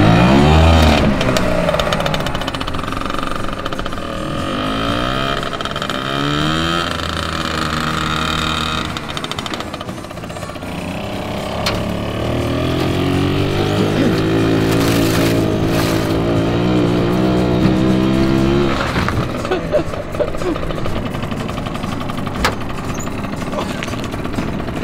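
A Piaggio tuk-tuk fitted with a motorcycle engine runs up close, its engine note climbing and falling through repeated revs over a steady rough idle.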